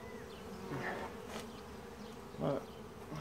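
Bees at a museum hive buzz faintly, with a couple of brief louder passes as single bees fly close by the microphone against a soft, steady background hum.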